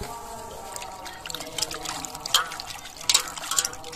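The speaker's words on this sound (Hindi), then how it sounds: "तो चलिए चिकन बढ़िया से धो लिए हैं, तो चलिए छिपा में रखते हैं। तो फिर से धोते हैं।" Chicken pieces being washed in water, with sloshing, trickling and splashing that rise in bursts over a steady wet background, close by and with a voice speaking faintly at times.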